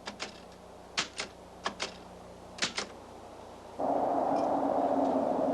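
A typewriter clatters out a manuscript late at night in bursts of sharp, close keystrokes, with pauses between groups; after a few seconds a steady whirring hum takes over.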